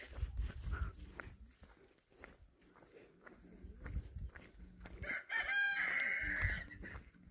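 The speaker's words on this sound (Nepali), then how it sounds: "कुखुरा बाँसेको" A local village rooster crows at a rural house in Tanahun, Nepal, a loud drawn-out call near the end after softer clucking and rustling, with faint footsteps.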